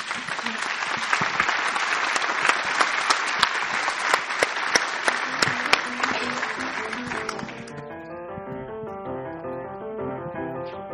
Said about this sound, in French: On va commencer par vous applaudir avant.